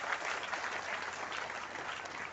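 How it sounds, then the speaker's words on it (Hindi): Steady applause from an audience at an ashram anniversary gathering, a dense wash of many hands clapping at even loudness, fairly quiet and without talk. "जोरदार तालियां"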